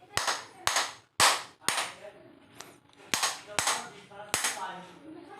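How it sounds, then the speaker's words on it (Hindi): A hammer knocks shut the rear gap of a cooler motor during fitting, landing about seven sharp, loud, close metallic blows at an uneven pace, each ringing briefly, with quieter handling noise between. "अब जो पीछे का जो गैप है इसको हम थोड़ा सा एक हथौड़े की सहायता से ठोक लेते हैं"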